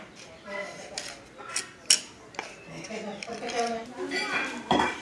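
Spoon clinking and scraping in a bowl as white sugar and cinnamon are stirred together, with irregular metallic taps throughout and a few louder knocks.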